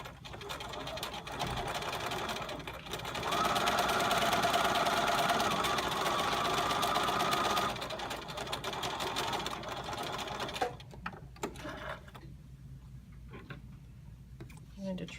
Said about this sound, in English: I'm going to bump my stitch length up to a 3 and then sew a 1/4 inch seam here.